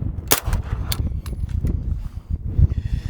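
MP5 submachine gun shooting 9mm 124-grain rounds, a few sharp suppressed reports with clanking action noise, close and fairly loud over outdoor background rumble.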